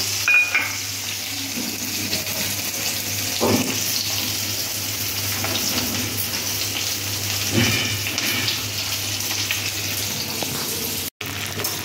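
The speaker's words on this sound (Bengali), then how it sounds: "তো মাংস তরকারির তেল আর 5 ফোড়ন আর পেঁয়াজ কুচি দিয়ে এটাকে যতক্ষণ না পেঁয়াজটা লাল লাল হয় ততক্ষণ আমি ভাজতে থাকবো।" Chopped onions with panch phoron five-spice fry in meat-curry oil, giving a steady close sizzle broken by occasional scrapes of stirring.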